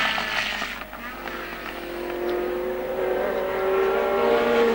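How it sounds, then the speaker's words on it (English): A 1970 Formula One car at the British Grand Prix roars on a lap with a high, rising engine whine that builds steadily in loudness as it approaches, under faint commentary. "And there's Jack Brabham coming up to start his last lap."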